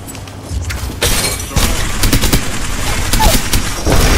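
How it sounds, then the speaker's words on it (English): Dense, loud gunfire in the video game Apex Legends, including bursts from a Bloodhound character: rapid sharp shots and crackling impacts that build and continue almost without pause. "I honestly think that Bloodhound is shooting."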